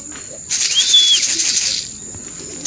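A racing pigeon arrives at its loft in Pililla, Rizal with a short, close burst of wing flapping, followed by a faint whistle-like call, alone and without talk.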